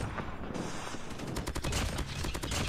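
Continuous rapid automatic fire from an AGR 556 rifle in COD Mobile, a loud, dense stream of shots running unbroken across the whole span with no speech.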